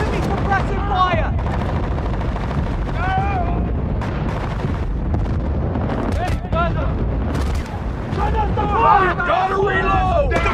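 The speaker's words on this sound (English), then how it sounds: "Give me suppressive fire!" Rifles and machine guns rattle in dense, close bursts with explosions in Battlefield: Bad Company, while soldiers shout over the constant battle noise.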